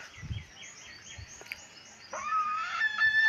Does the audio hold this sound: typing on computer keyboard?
no